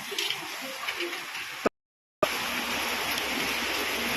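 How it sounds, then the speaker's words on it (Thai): Steady, dense rainfall hisses continuously, briefly cut to silence midway before the same broad downpour resumes. "ยังไม่ทันทำอะไรเดี๋ยวฝนตกอย่างแรงเลยค่ะ"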